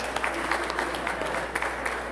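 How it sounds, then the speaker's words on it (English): A church congregation applauds graduates at an anniversary graduation Sunday service, a dense, steady wash of many hands clapping at once, loud and sustained throughout. "Please, can we give a round of applause to all the graduates"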